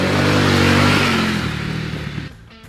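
A 2021 Harley-Davidson Pan American 1250 motorcycle engine revs loud and close, a sustained throaty roar that holds steady, then eases off and fades toward the end.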